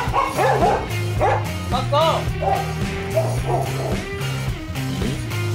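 A bobtail dog greets a young female dog, giving a series of short barks, yips and whimpers up close, with clattering and people talking underneath.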